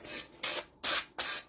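A sanding brick rasping along the edge of a decoupaged plate in four short, close strokes with brief pauses between them.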